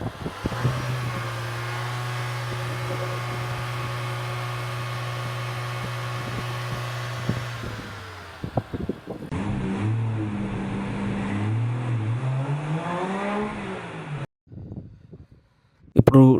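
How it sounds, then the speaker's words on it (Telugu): A Nissan Tekton car engine idles with a steady low hum and hiss for several seconds, then the sound shifts and rises and falls as it revs, ending in a brief pause and a louder burst. "ఇప్పుడు ఒకసారి మనం ఇంజిన్ సౌండ్ చూద్దాం."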